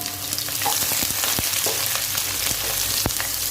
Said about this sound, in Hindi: अब हमें गैस स्लो कर देंगे और गैस स्लो करके 2 प्याज मीडियम साइज का 22 स्लाइस करके उसमें डाल देंगे।